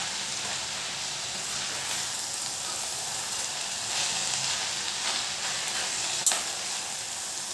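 Fenugreek leaves stir-fried in a pan over a high flame give a steady, loud sizzle and hiss throughout, with soft stirring scrapes and one brief clink near the end, and no talk.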